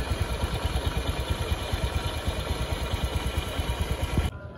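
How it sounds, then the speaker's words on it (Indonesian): A bored-up 130 cc Honda Beat scooter on a stock exhaust idles with its CVT block running, a close, steady rhythmic engine clatter that cuts off abruptly near the end. "Ini suara di blok CVT nya."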